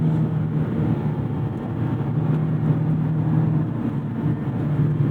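A Mazda MX-5 NC1 climbs a slight incline with a steady, monotonous engine drone heard from inside the cabin, constant and moderately loud with road noise and no talking.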